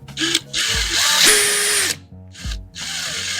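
A power drill whirs loudly in bursts, its motor pitch rising and falling as it bites in, stopping briefly between runs.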